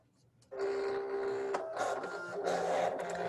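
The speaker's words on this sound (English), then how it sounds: "So our machine's gonna go to each of these corners on our print and cut and find them." A Silhouette cutting machine whirs and hums steadily at close range while its carriage moves to find each print-and-cut registration corner on a sunflower card, a continuous mechanical drone with shifting motor tones.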